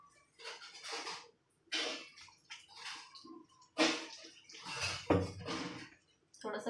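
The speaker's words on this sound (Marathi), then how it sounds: "परत एकदा मग धुवून घ्यायचे, ते जरा थोडासा वास जातो माशांचा लिंबू घालून धुतल्यावर" Fish rinsed in water with lemon in a home kitchen, giving close, intermittent splashing and sloshing bursts with short pauses between them.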